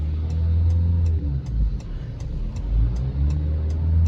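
A car engine revved to about 3000 RPM with traction control on, a steady mid-pitched hum heard from inside the car with a faint regular ticking over it.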